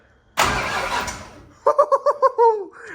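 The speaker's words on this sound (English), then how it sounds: "It's gonna be cranking over." A Ford Falcon engine cranks over. A loud burst of broad noise comes first, then about six rapid, rhythmic starter pulses, close up, without the engine catching.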